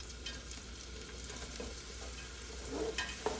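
Two medium chopped onions sizzling in butter in a soup pot, a soft, steady frying crackle that swells slightly near the end as they are stirred, quiet and close with no speech.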